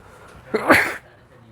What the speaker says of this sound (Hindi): कौन छींक रहा है?